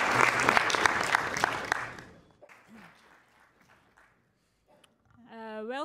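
Audience applause after a speaker introduction at an NDF medical meeting, a dense round of clapping that fades out after about two seconds, followed by near silence and then a brief rising electronic tone.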